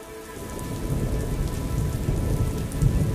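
Rain falling at a monastery in Ladakh, a steady dense patter on surfaces with low rumbling underneath, close and continuous without any voices.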